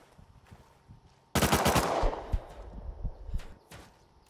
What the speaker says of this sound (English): He shot me from outside?